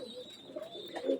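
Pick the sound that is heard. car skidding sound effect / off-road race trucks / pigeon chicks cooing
pigeon chicks cooing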